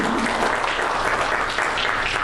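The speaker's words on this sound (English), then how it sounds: "Give the Lord a hand clap" A church congregation claps their hands together in praise, a dense, steady wash of many hands filling the room for a couple of seconds.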